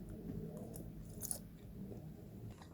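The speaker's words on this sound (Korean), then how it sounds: "오늘은 이렇게 첫 끼는 사과 한 개랑 닭가슴살 스테이크 먹어보도록 할게요" Close, soft chewing and biting of a chicken breast steak, moist squishy mastication with a few faint crunches and no talking.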